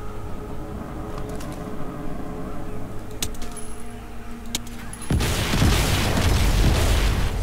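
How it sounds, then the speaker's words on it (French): Land mine blowing up in the video game Crysis 3, a sudden loud broadband burst about five seconds in that keeps roaring and rumbling to the end over quieter game ambience with faint clicks before it. "Alerte. Explosion de mine détectée dans le secteur 1 Delta 4."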